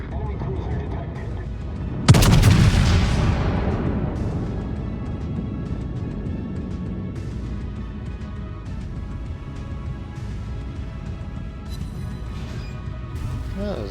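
Naval ship guns in the World of Warships video game fire as one heavy, loud boom that rolls off into a long decaying rumble, against quieter in-game ambience.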